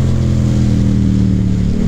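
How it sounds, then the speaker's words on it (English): A loud Yamaha FZ-07 parallel-twin motorcycle engine rumbles close by with a deep, steady throb, held at high revs with a slight rise near the end. "something about this parallel twin engine that Yamaha made"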